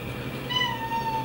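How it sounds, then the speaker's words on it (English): A house cat gives a single drawn-out meow with a rising then falling pitch, close by, over a low steady background hum. "My cat's talking to me."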